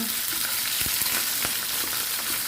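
Fish frying in leftover oil previously used for a squash omelette, a loud, close, continuous sizzle with a few small pops and clicks, no talking.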